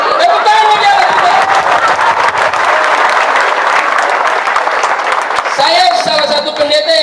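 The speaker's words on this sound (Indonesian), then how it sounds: "Tepuk tangan bagi Allah." Congregation applause at a Christian revival service in Abepura Class IIA prison, Papua, loud sustained clapping with some crowd chatter, bracketed by a speaking voice at the start and end.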